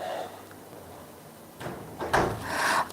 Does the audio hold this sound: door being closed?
yes